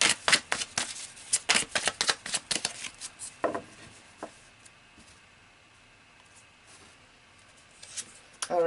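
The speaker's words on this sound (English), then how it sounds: "let's pull some more cards" Tarot cards are shuffled close up in a rapid run of crisp riffling bursts, then a few lone soft snaps as cards are pulled, with quiet stretches between and no talk.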